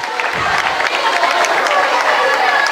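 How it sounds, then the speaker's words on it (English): Spectators at a swim meet clap for a swimmer finishing her race, steady scattered applause and crowd noise in an echoing pool hall, with a commentator speaking over it. "you'll see people clapping for her because they know she's working hard"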